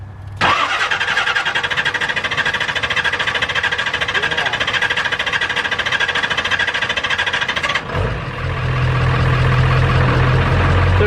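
A V8-swapped truck engine cranks in a long rapid starter whir for several seconds, then catches and settles into a deep, loud idle, close by.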